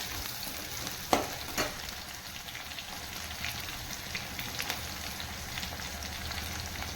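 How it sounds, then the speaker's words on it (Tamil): Fennel seeds crackling and spluttering in hot oil while frying for a Salem-style idli sambar, a steady close sizzle with a few sharper pops standing out. "சோம்பு நல்லா கொஞ்சம் வெடிக்கணும்"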